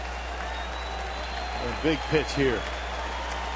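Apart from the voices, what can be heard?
sellout baseball crowd cheering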